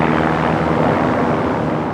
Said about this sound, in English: Nazi bombers attempt to smash the Armada, but they are driven off.